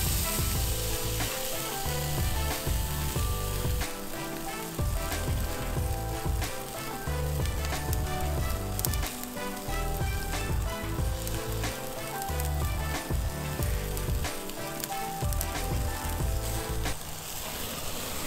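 A prime rib roast sears on a kettle grill with a Slow 'N Sear insert, giving a loud, continuous close sizzle with crackling fat and a few brief stirring or shifting sounds throughout.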